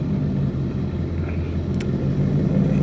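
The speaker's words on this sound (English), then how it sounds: "sitting here with the car just idling without my foot on the throttle" A car engine idles steadily with a low, even rumble, close and moderately quiet, a faint brief click or tick showing up partway through.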